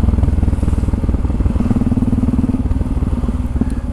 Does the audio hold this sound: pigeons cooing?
no